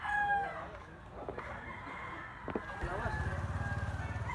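A black-leg gamefowl stag with a bull-bodied build crows faintly at a distance, its drawn-out call partly buried under quiet background noise and a low rumble.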